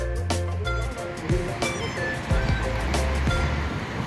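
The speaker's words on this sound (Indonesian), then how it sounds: "Nggak terlalu besar ombaknya di sini" Small waves wash in behind a breakwater at Bosowa Beach in Makassar, a close, continuous surf rumble with splashes and swirling water, and no voices heard.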